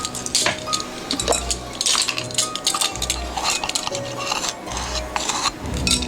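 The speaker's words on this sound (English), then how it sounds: "So you mix all your dry ingredients together" Dry cupcake ingredients, including salt and baking powder, are stirred together by hand in a bowl, giving repeated clinks and scrapes of utensil against the bowl in a steady rhythm, fairly close and with no talking.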